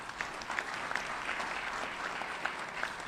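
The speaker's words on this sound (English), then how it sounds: "One more round of applause for them as well." Steady audience applause at a school Hall of Fame induction ceremony, a continuous wash of many hands clapping at moderate distance, with a few sharper individual claps standing out.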